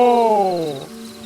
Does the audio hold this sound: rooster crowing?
no